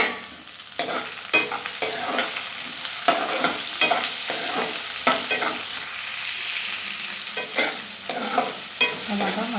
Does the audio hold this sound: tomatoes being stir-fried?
yes